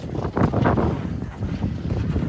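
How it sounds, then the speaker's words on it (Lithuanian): Wind blows outdoors in bitter cold of about minus sixteen, buffeting the microphone in loud, rumbling gusts that swell and ease over a couple of seconds. "tokį vėjelis dar toks neblogas"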